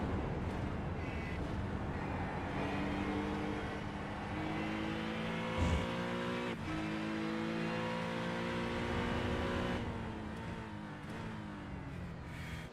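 A GT3 race car heard onboard at Silverstone in the iRacing sim, its engine revving up through the gears with shifts, steady and close for the whole stretch.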